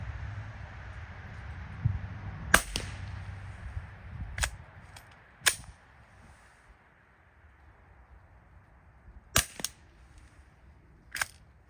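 Shots from a Glock 44 .22 pistol at an outdoor range, about six sharp, fairly faint cracks spaced irregularly over a quiet background.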